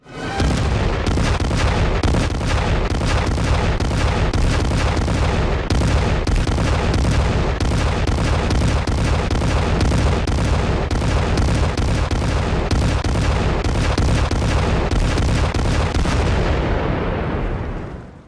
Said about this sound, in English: And it uses the old action movie trick of showing a cool explosion from multiple angles when Eve counters a flamethrower with a fire